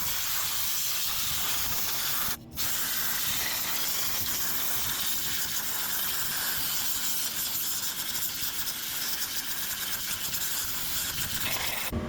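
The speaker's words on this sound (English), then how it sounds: "I'm just gonna use some compressed air to dry it out" Compressed air blasts through a K&N car air filter from the inside out, a loud continuous hiss broken by one short pause, with no talking.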